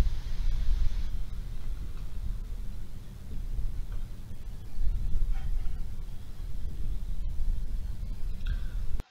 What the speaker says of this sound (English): And this is the sound of Suiyo Seamount.